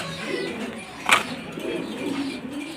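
Domestic pigeons kept for breeding, one hen sitting on eggs, give low, soft cooing close by, with one brief brighter call standing out midway against a quiet room tone.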